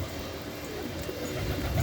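Hungry pet pigeons cooing in a home loft, soft low coos over a steady noisy background.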